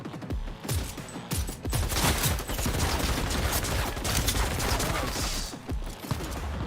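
Rapid gunfire in the video game Cyberpunk 2077 rattles close and loud in continuous bursts for several seconds, with a brief word spoken.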